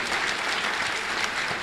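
Crowd applauding at a grand ceremonial welcome of a Jain monk, a dense, even burst of many people clapping loudly throughout, with no pauses.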